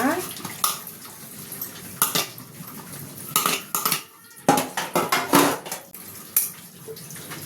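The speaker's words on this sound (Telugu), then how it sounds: "గిన్నెలు దోమేస్తే పని అయిపోతుందండి" Dishes are washed in a kitchen sink, with running water from the tap and repeated clanking of steel pots, plates and cutlery knocking together close by, loud and irregular throughout.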